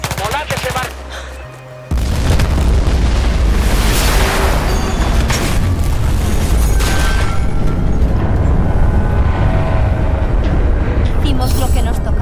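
A loud, continuous barrage of gunfire and explosive booms in the video game Battlefield 4 fills the whole clip after a quieter opening, dense and sustained with no pauses.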